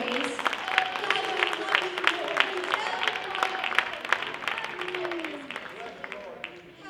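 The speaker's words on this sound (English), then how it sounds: "Can we give the Lord a hand clap of praise?" A church congregation claps in praise during a worship service, a lively wash of many hands with crisp individual claps standing out, steady for several seconds and then slowly fading.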